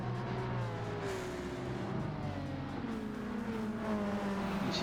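Race cars, including Hondas and Fords, running in close formation at Fuji Speedway in Gran Turismo 7. A steady, dense engine drone holds throughout, with overlapping tones from several cars shifting in pitch. No one speaks.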